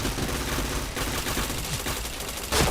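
Continuous rapid gunfire in a shooter game, dense crackling bursts filling the whole stretch with a louder blast at the end, close and loud with no talk on top.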